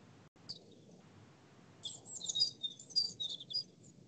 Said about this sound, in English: And all those birds were singing.